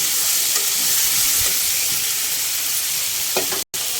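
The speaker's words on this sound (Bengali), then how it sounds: "এবার আমি কলাটা কিছু সময় কষিয়ে নেব।" Fried green plantain sautéed with spices in a pan, a steady broadband sizzle and frying hiss throughout, with a few soft stirring scrapes and one brief dropout near the end, no voices.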